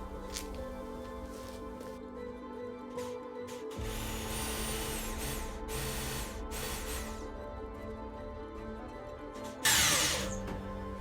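A power drill bores a hole in wood while building a floating bed, a steady whirring drone that shifts pitch partway through, with a brief louder burst near the end.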